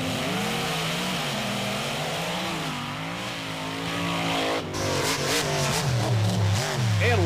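A Monster Patrol monster truck races at a beach event, its engine roaring loudly throughout and rising and falling as it revs, with a sharp rise in intensity near the end.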